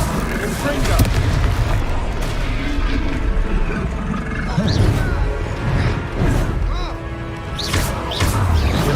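Confringo blasting spell explosions during a troll fight in Hogwarts Legacy, heavy booming crashes and impacts repeating over a dense battle din, with voices speaking throughout.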